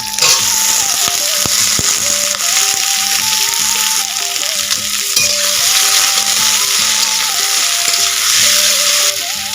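Taro stolons and green chilies fry in a hot pan with a loud, steady sizzle. Stirring scrapes and knocks against the pan recur at a regular rhythm.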